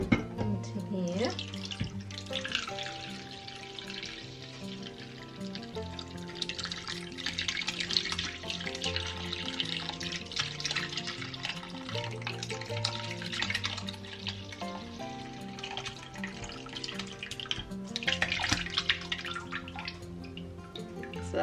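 Whey from homemade cottage cheese drains through cheesecloth into a big pot, a continuous close trickle and splatter of liquid with a voice talking over it.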